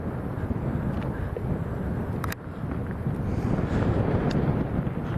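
Strong crosswind gusting at Lanzarote Airport, heard as continuous low buffeting rumble against the microphone, steady and loud, with one brief dip partway through and no talk over it.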